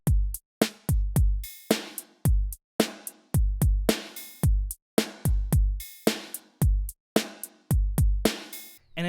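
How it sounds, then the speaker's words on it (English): A drum kit with gated reverb on the mix hits in punchy, abruptly cut-off bursts, each strike booming briefly then chopped to silence, in a steady groove, loud and clear without voices. "So now this is with the gated reverb."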